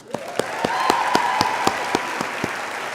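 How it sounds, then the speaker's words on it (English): A few people clapping at a school awards ceremony, with sharp individual claps standing out in a loose, fairly regular rhythm over a thin background patter. "one last applause for Patrick Bolsterley"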